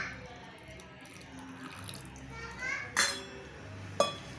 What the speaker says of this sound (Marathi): ह्याच्यात पाणी घालून ठेवायचं आहे